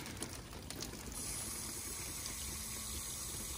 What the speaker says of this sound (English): Be careful how I water this one.